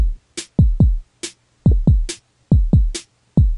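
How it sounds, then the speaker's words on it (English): A simple electronic dubstep drum pattern made in FL Studio 9: deep booming bass kicks alternating with sharp snare hits in a steady, sparse rhythm, played alone. "bass bass snare. So it's going to sound like this."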